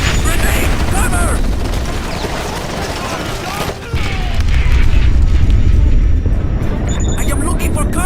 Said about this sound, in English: Grenade, cover!